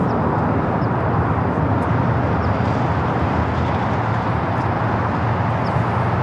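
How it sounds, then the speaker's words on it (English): An Alaska Airlines Boeing 737 MAX 9 jet takes off at LAX with a steady, broad, rushing roar that stays loud and even throughout, with no voices. "This takeoff is Alaska Airlines Flight 79 taking off to Las Vegas on the MAX 9."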